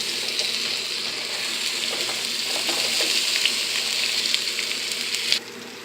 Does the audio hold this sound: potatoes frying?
yes